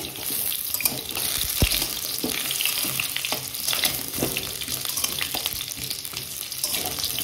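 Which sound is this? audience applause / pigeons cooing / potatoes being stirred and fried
potatoes being stirred and fried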